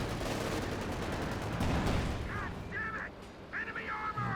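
Artillery fire in Company of Heroes 2, a dense, rumbling barrage of booming explosions rolling continuously for several seconds, followed by a few sharper whistling shell sounds as the shelling thins out.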